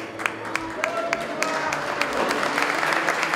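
Audience applause at a school graduation ceremony, steady clapping from a crowd of parents and guests that swells slightly toward the end, with a voice speaking faintly underneath.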